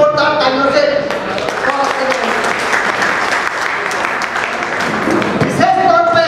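A crowd in Mumbai gives loud, sustained applause for 10th and 12th grade students honoured at a community association ceremony. A speaker's voice carries over the dense clapping throughout.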